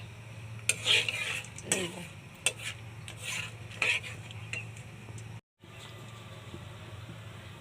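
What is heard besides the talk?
stirring cinnamon, cardamom, cloves and peppercorns in a pan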